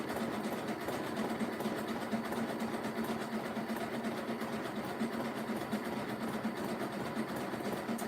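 A sewing machine with clear thread in the bobbin stitches bias tape onto the back of a quilt, holding a continuous, even motor hum at moderate volume throughout.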